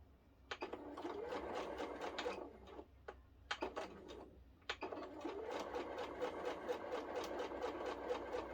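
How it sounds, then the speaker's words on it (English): A sewing machine runs a straight quarter-inch seam on quilt block fabric, whirring steadily at close range with short pauses and a quick rhythmic ticking of the needle. "sew straight down"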